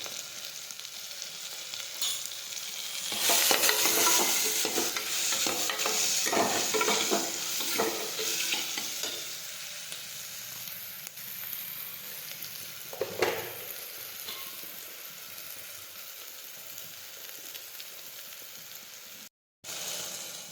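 Turmeric and cumin frying in oil in a pan for a galka (sponge gourd) curry. A steady sizzle swells into a brighter, busier crackle with stirring scrapes, then settles into a softer hiss, heard up close with no voices.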